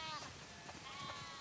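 Sheep bleat faintly in The Last of Us Part II video game, a few short calls blended into a quiet, hissy in-game backdrop.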